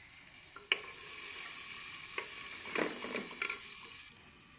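Onion, garlic and chili fry in oil in a pan, a loud steady sizzle that rises after a few utensil clicks, with occasional scrapes of stirring, then cuts off abruptly near the end.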